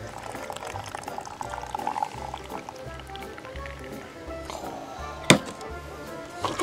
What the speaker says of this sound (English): goes my lemon vodka basil infusion, which I will pour in through my shaker